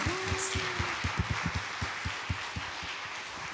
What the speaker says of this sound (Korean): 우리 힘차게 박수 한번 하도록 하겠습니다